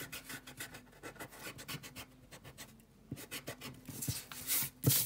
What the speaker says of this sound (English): Now you're gonna erase this bit right here.